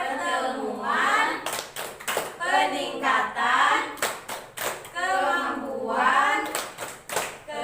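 A group of women chants in rhythm with bursts of sharp, synchronized hand claps punctuating the chanting voices at a family meeting, close and clear.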